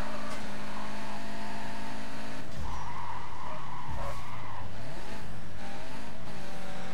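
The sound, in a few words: car engine downshifting in Need for Speed Carbon video game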